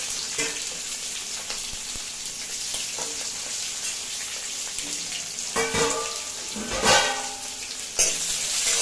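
Chopped onion and chillies fry in hot oil for a thotakura fry, giving a steady close sizzle with occasional clatters and stirring scrapes, and no talk.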